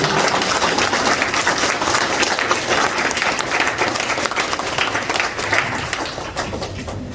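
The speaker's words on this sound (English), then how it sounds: "you guys help me give a round of applause to Cool" An audience at a real estate talk gives a round of applause for a presenter, dense and continuous clapping from many people that holds steady and then fades slightly toward the end.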